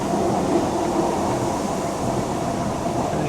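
Steady rumbling roar inside a moving train on a rural line, a continuous loud broadband drone with faint rattling and no distinct clacks or voices.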